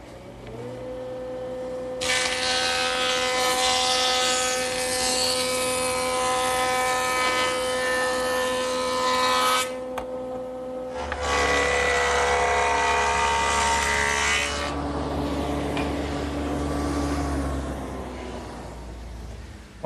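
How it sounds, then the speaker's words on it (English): A woodworking jointer runs with a steady motor whine while board edges are passed over its cutter head in two long, loud, dense passes, the second starting near the middle, the machine humming on between and after them. "Now I'll just joint both edges nice and smooth."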